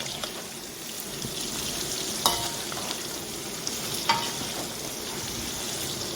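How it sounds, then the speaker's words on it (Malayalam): Colored bell peppers frying in a pan for beef chilli, a dense steady sizzle with a couple of louder utensil clanks against the pan, close and free of speech. "ഇത് ചെറുതായിട്ടൊന്ന് നമ്മൾ ഫ്രൈ ചെയ്ത് എടുക്കണം"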